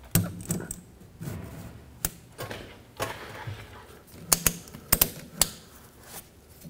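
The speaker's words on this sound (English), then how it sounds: "I'm gonna slowly loosen up on my ratchet strap." Ratchet strap slowly loosened during exhaust pipe replacement on a 2007-2010 Chrysler Sebring, producing scattered sharp mechanical clicks and ratcheting snaps at irregular intervals, close by, with soft shuffling between them.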